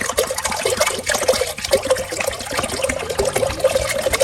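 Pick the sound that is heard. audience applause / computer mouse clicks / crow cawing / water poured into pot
water poured into pot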